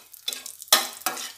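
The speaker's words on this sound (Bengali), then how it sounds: "ফোড়নটা একটু ভাজা করে নিচ্ছি।" Dried red chillies and black cumin seeds frying in hot oil in a pan for a tempering, with sharp sizzling bursts and stirring scrapes in short pulses, close and fairly quiet.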